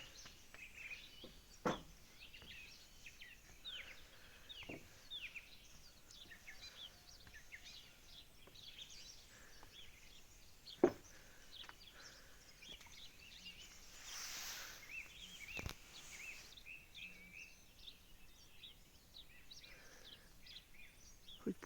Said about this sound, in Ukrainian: І ось так співають пташки.